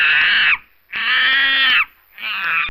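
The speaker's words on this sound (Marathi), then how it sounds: "बरोबर, माकड." A monkey gives three loud, harsh screeching calls, each about half a second to a second long, separated by short pauses, close and alone.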